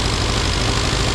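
Classic Mini Cooper RSP engine idling steadily at 1500 RPM after distributor tuning, a loud, close, even low rumble with no voices.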